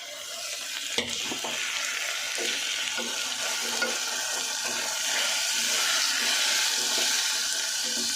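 Tomatoes sizzle and fry in a hot pan at home while a spoon scrapes and stirs them, a steady hiss with irregular clinks and scrapes. No one speaks.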